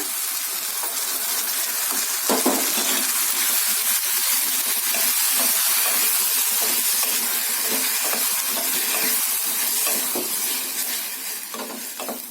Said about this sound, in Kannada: ಈಗ ಟೊಮೊಟೊ ಪ್ಯೂರಿ ಹಾಕೊಳ್ಳೋಣ